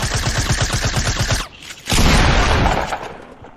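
Rapid bursts of automatic gunfire from a Fortnite match, loud and close, followed after a brief lull by a heavy boom and a sustained crackling barrage.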